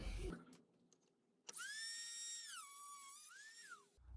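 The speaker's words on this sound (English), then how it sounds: "So let's grab the Dremel, trim this down a little bit." A Dremel rotary tool trims a piece on a Buell 1125R motorcycle. Its high-pitched whine rises and then dips as it bites into the material, loud and close, for a few seconds between handling noises.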